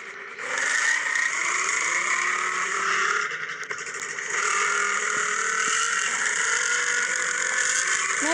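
Engine of a Bullet motorbike in the video game Indian Bike Driving 3D, a loud sustained revving drone with rising and falling pitch, a brief dip midway before the engine note swells again, no voices.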